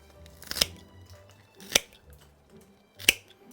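Scissors snipping cut flower stems while a bouquet is arranged, three sharp separate clicks spaced about a second apart, close and clear against quiet background.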